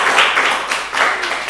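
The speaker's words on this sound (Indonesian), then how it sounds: "Tepuk tangannya." A school talk show audience claps for a guest speaker, a few people clapping in uneven bursts, fairly close and moderately loud, with rhythmic pulses rather than a full roaring ovation.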